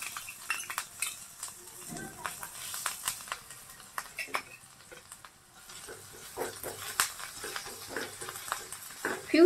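Ginger dropped into hot oil in a kadhai crackles and sizzles with scattered pops and the scrape of a stirring spoon, close and moderately loud, with no voices.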